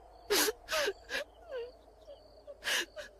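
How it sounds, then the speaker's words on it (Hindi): A woman's ghostly wailing and sobbing for a horror story, several drawn-out breathy cries and moans with pauses between them, loud and close. "तब भी किसी की रोने की आवाज आई"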